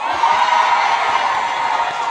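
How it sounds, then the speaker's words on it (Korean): Festival crowd at an outdoor trot concert in Okcheon cheers and whoops, a loud continuous roar of many voices, with applause blended in. "그러면 군수님께 한번 박수 드릴까요?"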